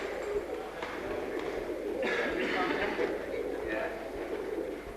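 English Tippler pigeons coo at a pigeon show, a low continuous murmur of many birds close by, heard beneath people talking and a busy indoor hall.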